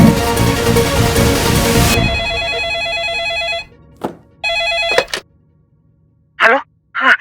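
Telephone bell rings loud and close in two separate bursts after a stretch of busy noise, with brief voice sounds near the end.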